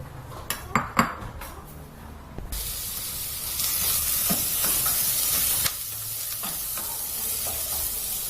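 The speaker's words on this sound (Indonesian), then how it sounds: "sekarang kita mulai tumis bawang bombaynya dengan 1 sendok teh minyak zaitun yang tadi kita sudah siapkan." Onions sauté in a teaspoon of olive oil: a few utensil clinks against the pan, then a steady, close sizzle with occasional stirring scrapes and no talking.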